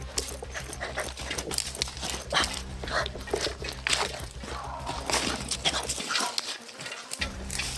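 Dogs bark and pant amid steady, noisy outdoor rumble, the sounds continuous and somewhat distant.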